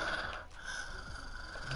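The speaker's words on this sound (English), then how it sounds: "Can you like stop breathing?" A person breathes heavily right into a microphone, a harsh, wheezy rasp that is close and continuous for nearly two seconds, with a brief dip midway.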